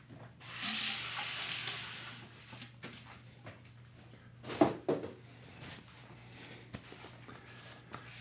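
Water runs from a tap for a couple of seconds while a beard is rinsed, then gives way to faint splashing and handling noises in a quiet bathroom.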